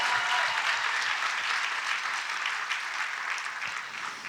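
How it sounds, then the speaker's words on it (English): A seated audience at a Democratic club gathering in Rossmoor applauds Elizabeth Warren with dense, steady clapping that holds evenly for a few seconds and then tapers slightly, with no speech over it. "How about a round of applause for Elizabeth Warren?"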